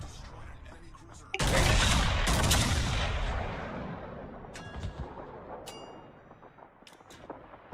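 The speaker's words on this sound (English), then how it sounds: "One salvo, because I want to shoot this Dido." A warship main battery salvo in World of Warships, one loud booming broadband blast that rolls and slowly decays over several seconds, followed by faint metallic clinks and game sounds.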